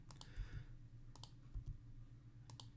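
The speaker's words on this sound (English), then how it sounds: "I'm just going to click on them and hit delete." A few sharp computer mouse clicks and a keyboard key press sound close and quiet in a still room, scattered in short bursts with pauses between and no speech.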